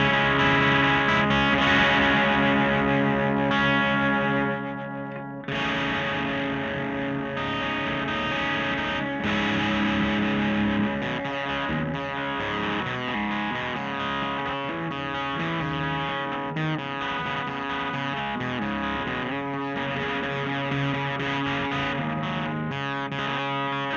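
An electric guitar played through a Joyo Uzi distortion pedal set for a subtle gritty tone, with sustained chords and riffs ringing out loudly and continuously, with no voices.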